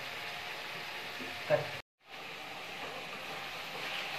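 Tomatoes sauté in a pan with a steady, close sizzle that cuts out briefly near the middle, then resumes at a similar level.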